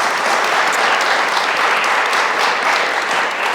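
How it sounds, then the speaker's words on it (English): An audience applauds a speaker at the close of a talk, a dense, steady wash of clapping that stays loud and even throughout with no voices over it. "Can we have a round of applause for Elaine?"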